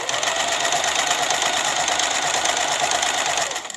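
A sewing machine stitching a simple belt runs in one continuous, steady whir, close and loud, and winds down at the very end.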